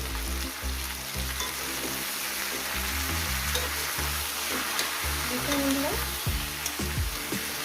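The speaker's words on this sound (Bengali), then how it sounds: "এবারে আমি ভাজবো শুধু সবজিটাকে শুধু ভাজবো আর কিছুই দেবো না" Snake gourd with turmeric fries in a hot pan with a steady loud sizzle, broken by repeated scraping stirs and clinks of a spatula.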